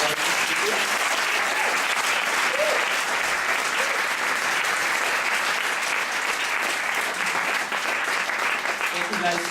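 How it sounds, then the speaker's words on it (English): An audience applauds its speakers at a live evening event, a dense, steady wash of clapping from a full room that carries on for close to ten seconds without a break. "Can we give one more round of applause for"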